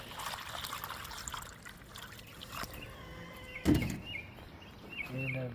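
Water trickles and splashes as it is poured into the waterer of a cage holding New Zealand rabbits outdoors, with a metallic clank partway through and faint background noise.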